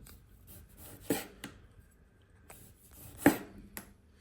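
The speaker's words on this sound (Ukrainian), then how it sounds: "Помідор нам потрібно нарізати кілечками." A knife cuts a tomato into rings on a board, giving a few quiet, separate chopping thuds spaced irregularly, two of them sharper and louder, with soft rubbing between cuts in a near-silent kitchen.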